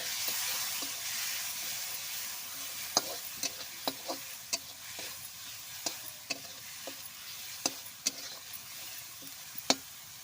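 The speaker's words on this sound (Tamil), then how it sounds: "இப்போ நல்லா கிளறி விட்டுடலாம்." Masala for ridge gourd sambar is stirred in a pan over a soft continuous sizzle, with a spoon knocking sharply against the metal at irregular intervals.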